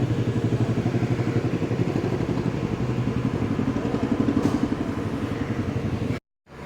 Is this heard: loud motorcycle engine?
yes